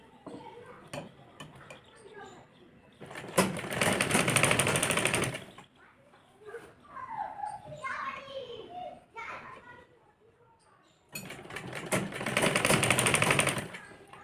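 An electric sewing machine stitches fabric for a frilled top in two loud, rapid whirring bursts, with someone speaking Hindi and children's voices and clatter in between.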